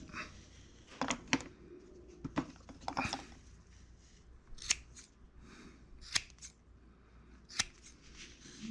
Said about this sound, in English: Let's see if I can find my scissors.